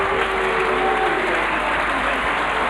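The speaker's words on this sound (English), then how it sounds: "Few boos coming from the crowd" Stadium crowd at the Wigan versus Warrington rugby league Lancashire Cup final, a steady broad roar that reads as booing and jeering mixed with applause as the winning Wigan side collects the cup, sustained and loud throughout.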